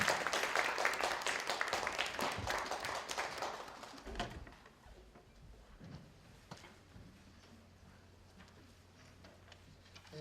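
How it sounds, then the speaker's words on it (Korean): Audience applause at an academic conference honoring a professor, dense clapping for about four seconds before thinning into scattered claps and room noise. "교수님께 큰 박수 부탁드리겠습니다."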